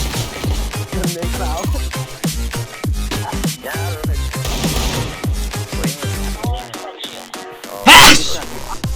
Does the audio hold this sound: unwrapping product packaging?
no